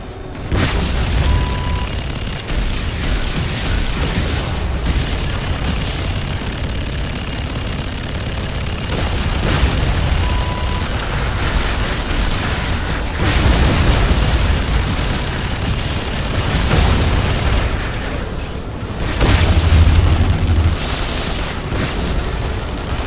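Rocket launcher blasts and gunfire in the shooter game F.E.A.R. 3, a near-continuous barrage of loud booms and bursts. Heavier impacts land around the middle and near the end, with no talking.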